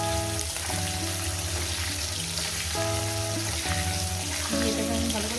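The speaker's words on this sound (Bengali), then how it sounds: "এটাকে আমি ভালো করে সুন্দর করে লাল লাল করে ভেজে নেব।" Potato pieces frying in a pan with turmeric, a steady broadband sizzle running continuously at close range with faint tonal hum underneath and no talk.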